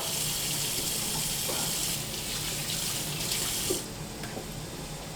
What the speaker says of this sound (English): Give that a rinse.